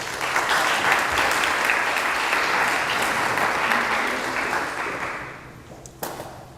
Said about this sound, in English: Please give him a round of applause as he comes.